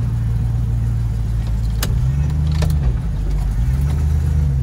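A V8 turbo Chrysler Valiant drives along with a loud, deep engine drone filling the cabin, its pitch rising and dipping as the revs shift.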